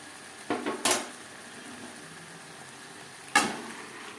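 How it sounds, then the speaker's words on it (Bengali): Boiled dal being stirred into chicken and spices in a pot: a few sharp spoon clinks and scrapes against the pan over a faint, low cooking hiss, otherwise quiet. "চিকেন ও মশলার সাথে ডাল বেশ ভালো করে মিক্স করে দেবো।"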